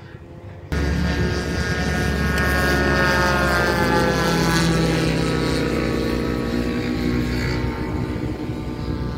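A radio-controlled model airplane flies at an aeromodelling field in BSD City, its propeller giving a loud, steady buzzing drone that holds for about nine seconds, with engine pitch wavering slightly as it passes.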